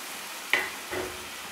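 Fried pointed gourd pieces dropped into a hot pan of spiced potatoes for a prawn curry, a quick clatter followed by a brief rush of sizzling, close and short.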